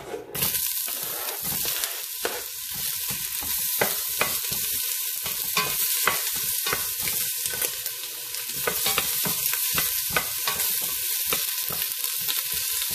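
Sliced onion sizzles loudly in a pan with a little virgin oil for beef adobo, a steady close frying hiss with occasional stirring scrapes and spatters, no voices.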